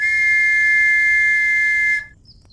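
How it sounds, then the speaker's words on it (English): A trench whistle is blown in the military video game Arma 3. It makes one loud, shrill, steady tone lasting about two seconds, then cuts off into near silence. "If I blow the trench whistle, it's this one."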